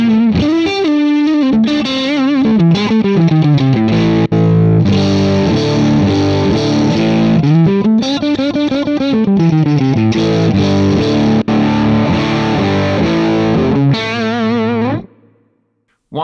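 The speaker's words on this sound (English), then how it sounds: "I kind of like this built-in Texas Blues preset on the neck pickup." Electric guitar through a Mooer GTRS built-in Texas Blues preset on the neck pickup, a loud, continuous, driven blues phrase with bending lines and chords, stopping abruptly near the end.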